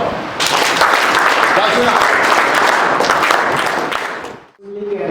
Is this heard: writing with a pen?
no